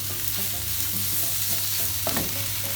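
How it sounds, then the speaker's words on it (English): Steady stirring of a gnocchi mixture seasoned with salt, pepper and thyme, with asparagus and onion bits, in a pan, with a soft sizzling bed beneath continuous close scraping strokes and no talking. "Now give it a nice mix."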